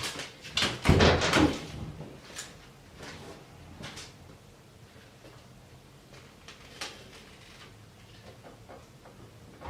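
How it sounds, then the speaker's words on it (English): A door is opened by someone in full plate armor, with a loud burst of metallic clanking and rattling at first, then scattered softer knocks and shuffles as the armored figure moves. "I'm just going to try full plate because all the other kinds of armor, I'm not going to have a problem opening a door."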